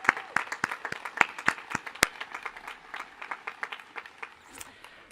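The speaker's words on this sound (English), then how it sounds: "let's give them a round of applause for their tireless service" An audience at a graduation ceremony claps in a crisp, irregular patter of many hands, moderately near, gradually thinning toward the end with no one speaking.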